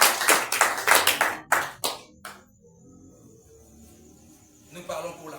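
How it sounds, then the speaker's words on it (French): A church congregation at a youth meeting at Peniel Tabernacle claps for the Lord in a quick, loud burst of hand claps that stops after about two seconds, then faint scattered clapping returns near the end. "Acclamez pour le Seigneur."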